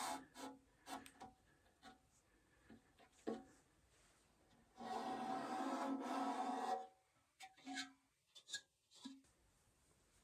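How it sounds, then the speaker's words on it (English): Residue is scraped out of the rope gasket groove on a wood stove in short scratchy strokes, with one longer, louder rasping rub in the middle and scattered light scrapes on either side. "See the residue I'm taking out of the groove."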